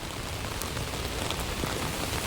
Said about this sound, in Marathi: गोरेगावला पाऊस खूप पडत आहे आणि इथे पाणी खूप साचले आहे